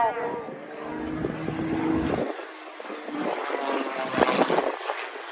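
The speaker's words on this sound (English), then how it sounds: "it really is quite remarkable the way he's throwing the aeroplane through the sky" Aerobatic aeroplane tumbling end over end at the Teesside air show, a loud, wavering propeller drone that swells and dips as it maneuvers, with a commentator's voice heard over it.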